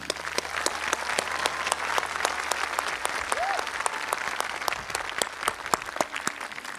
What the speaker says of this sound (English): Join me in giving them another round of applause